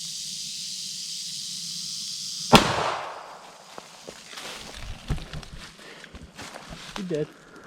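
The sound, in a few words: gunshot shooting a snake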